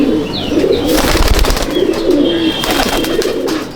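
Pigeons at a loft being let out, repeated close coos with bursts of flapping wings and rustling in the middle.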